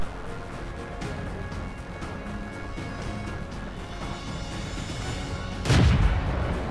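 In the World of Tanks video game, a tank cannon fires once near the end with a single heavy boom, rising out of a steady bed of engine and battlefield ambience.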